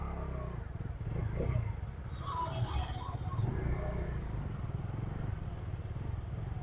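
A Bajaj Dominar 250 motorcycle's exhaust revs on a road trip, a low, throaty engine drone rising and falling at moderate distance amid some background clatter.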